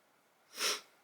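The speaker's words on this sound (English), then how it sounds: "Sorry for all the sniffles." A single short, breathy sniff from a person with a cold, close to the microphone, rising and fading within a fraction of a second against quiet background.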